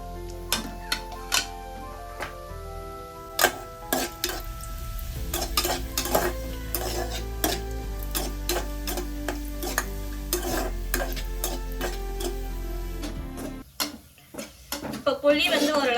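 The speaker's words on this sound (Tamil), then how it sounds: "புளி வந்து ஓரளவு நல்லாவே வறுபட்டுச்சு" Tamarind being dry-fried in a pan for tomato thokku, with repeated crisp clicks of a metal spoon against the pan over a low sizzle and a steady background hum.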